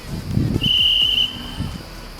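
One steady high whistle blast lasting about half a second at a football penalty shootout, sounded outdoors over low rumbling noise and brief muffled voices.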